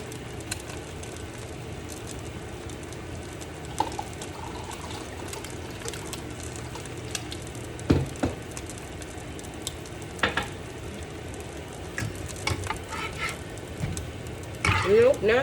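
Eggs and bacon fry in a pan with a steady, soft sizzle. Occasional clinks and scrapes of a utensil cut through, and someone speaks over the cooking now and then.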